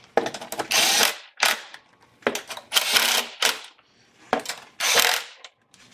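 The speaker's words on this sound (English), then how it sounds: "Again, I'm just going to use the impact." Short bursts of an impact wrench tightening nuts on a 1999 Acura RL engine during a coolant replacement, six or so loud, close rattling buzzes separated by short gaps.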